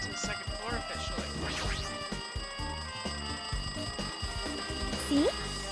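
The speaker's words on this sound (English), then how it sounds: "It looks like it's that phone ringing." A telephone rings in a video game, its bright trilling tone heard under dense game music and effects, with a rising whoop sound near the end.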